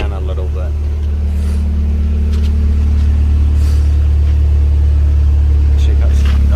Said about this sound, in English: Beautiful sounding exhaust.